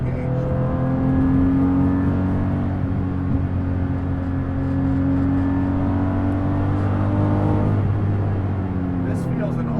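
A Guntherwerks 400R, a reworked 25-year-old air-cooled Porsche 911 with a valved GT3-style exhaust in sport mode, holds a loud droning engine note with a rising and falling rev pitch under someone talking.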